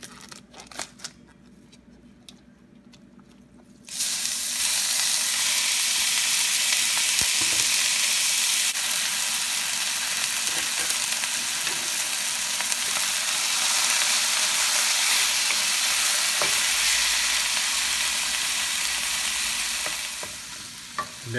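Ground beef for lasagna dropped into a hot pan, with a loud steady sizzle that begins suddenly after a quiet opening and holds throughout, under occasional stirring scrapes.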